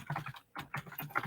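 Rapid typing on a computer keyboard heard up close, a quick patter of key clicks that stops briefly, then resumes in a burst of keystrokes.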